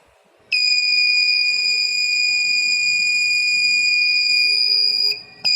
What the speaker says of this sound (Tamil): அந்த டச்சை விட்டு யாரும் எடுத்துட்டாங்கன்னா, அந்த திருடங்க வந்து அதாவது எடுத்துட்டாங்கன்னா அதில் வந்து சவுண்ட் வர ஆரம்பிச்சிடும் பீப்பர்லேருந்து.